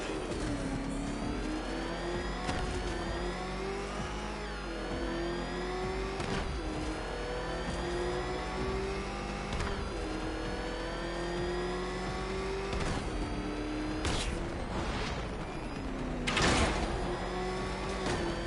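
The Batmobile's engine in a Batman video game revs hard and continuously, with repeated rising pitch sweeps as it accelerates through gears, loud and close, with a few sharp bursts near the end.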